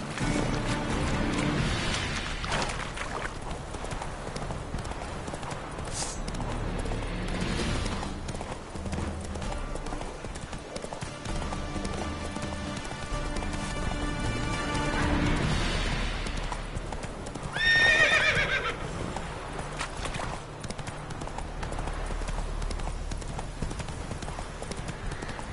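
A horse's hooves clip-clop steadily at a gallop in The Witcher 3: Wild Hunt, with a whinny partway through and game ambience underneath, lasting the whole stretch.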